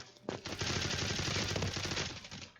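Rapid automatic gunfire in a battle royale video game, one dense sustained burst of fast, loud shots lasting about two seconds.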